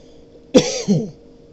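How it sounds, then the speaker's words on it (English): A single short cough, close and clear, with a brief rough follow-through, in otherwise quiet surroundings. "excuse me, I'm going to cough"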